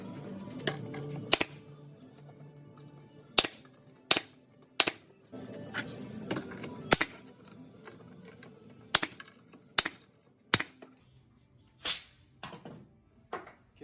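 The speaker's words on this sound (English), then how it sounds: "we're gonna take a staple gun. And we're going to staple on the side pieces." A staple gun fires about a dozen sharp, close snaps at irregular intervals while side pieces are stapled onto a half-round transom, with faint handling noise between shots.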